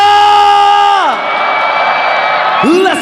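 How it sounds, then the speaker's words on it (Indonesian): A packed crowd at Jakarta International Velodrome cheers and whoops during the MPL ID Season 15 grand final between ONIC and RRQ. The noise is loud and continuous, with a sustained tonal horn or music line fading near the start. "Mana tepuk tangannya?"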